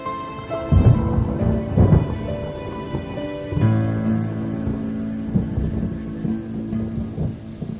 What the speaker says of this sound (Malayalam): എന്ത് നല്ല മഴയല്ലേ, നൈസ് മൂടല്ലേ.